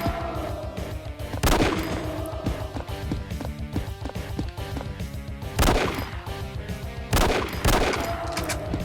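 Gunfire in an Xbox Live indie first-person zombie shooter: rapid, close shots crackle continuously, with three heavier bursts standing out at intervals.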